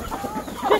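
Farmyard chickens cluck in short, soft, overlapping calls nearby, a brief burst of murmuring clucks rising slightly toward the end.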